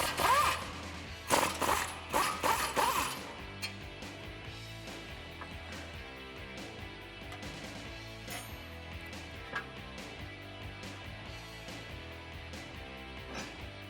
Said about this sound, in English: I can now unbolt my caliper and hang that out of my way to remove my rotor